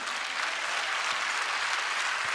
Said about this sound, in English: Will you clap your hands and praise God?